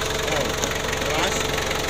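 A 2000 Mitsubishi Kuda GLS with a diesel engine idles, giving a dense, steady rattling drone with a faint knock, close and loud throughout. People talk over it.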